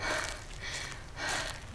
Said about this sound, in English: Why am I panting?